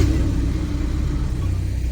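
A white limited-edition Ferrari revs its engine nearby on a street in Palermo, a steady, loud, deep rumbling drone that holds throughout with no voices over it.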